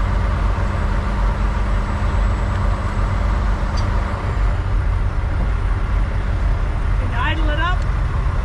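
Truck engine with an air-ride suspension trailer idles up at a steady, raised speed, a continuous low rumble filling the scene while a voice briefly speaks near the end.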